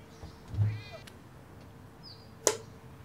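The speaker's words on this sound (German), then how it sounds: "Und die Katze ist weggerannt." A cat meows in the horror video game Downfall, one clear drawn-out meow followed by quieter game ambience, a sharp click and a faint chirp, with no talk over it.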